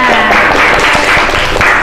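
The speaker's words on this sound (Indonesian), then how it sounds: "tepuk tangan" Students in a classroom clap together, a loud close burst of applause running the whole length, with some voices mixed in.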